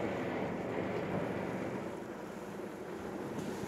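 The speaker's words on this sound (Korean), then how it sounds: "파도가 점점 세지잖아요" Sea waves building along an island coast as the weather turns, a dense continuous roar of surf mixed with wind buffeting, loud and steady, no voices.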